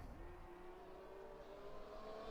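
An Aston Martin race car, number 88, roars through an onboard lap in a racing game, its engine holding a steady high drone that climbs gradually in pitch, heard alone without talk.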